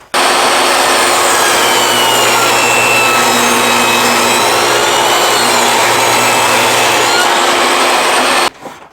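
Loud, steady sawing through a southern yellow pine board, one continuous cut that runs for about eight seconds before stopping abruptly, with no talk over it.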